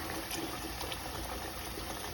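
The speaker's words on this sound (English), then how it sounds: "turn on some cold water" Cold water running from a kitchen sink tap onto a pot of boiled eggs, a steady, faint wash of flow with no pauses.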